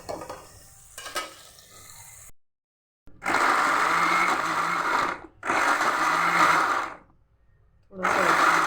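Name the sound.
kitchen grinder grinding garlic and ginger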